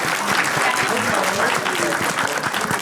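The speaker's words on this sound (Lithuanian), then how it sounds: "Plojimai Lauros komandai." Studio audience applause for a team on a Lithuanian comedy game show, a dense, steady burst of clapping that fills the whole moment close and loud, with a hint of crowd voices mixed in.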